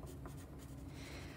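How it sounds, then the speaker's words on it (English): A pencil writes a name on the back of a sheet of paper, giving a steady close scratching and rubbing that runs continuously through the short moment with no talk. "write our name and our teacher's name on the back of our paper"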